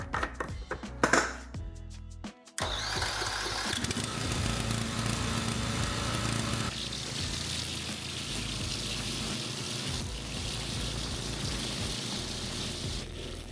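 A few rattling pulls come first, then a DR Power PRO XLSP gas trimmer mower engine catches and settles into a loud, steady running drone close by.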